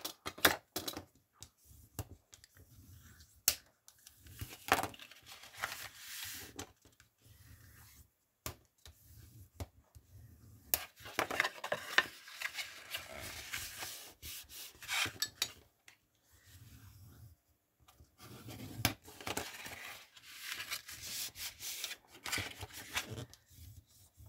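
Paper folds being creased firmly by hand, a series of close, dry rubbing and scraping strokes in irregular bursts over a quiet background.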